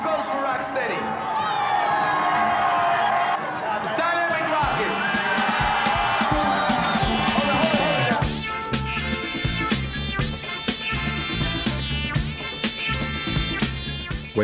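Crowd at a hip hop dance battle cheering and whooping loudly, a dense wall of voices with shouts rising over it, then music with a steady beat taking over.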